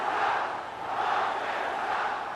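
Roaring basketball arena crowd at the 1984 NBA Finals, Celtics versus Lakers, a dense sustained cheer that swells and holds loudly throughout with no break.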